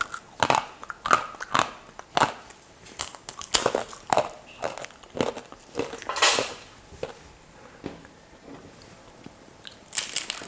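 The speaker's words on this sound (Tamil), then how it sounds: "நல்லா மொறு மொறுன்னு எப்படி இருக்குது பாருங்கள் முறுக்கு" Crunchy homemade murukku snack being bitten and chewed, producing a series of sharp, crisp crackling bites close to the mic, irregular and loud, with no talking.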